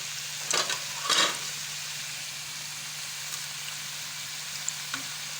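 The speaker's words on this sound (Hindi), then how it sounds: "इनको फ्राई जो करना है वो बिल्कुल हल्की आंच पे करना है, बिल्कुल स्लो" Bread dough balls for gulab jamun fry slowly in a pan over very low heat. A soft, steady hiss with a couple of brief sizzling bursts near the start, otherwise quiet and even.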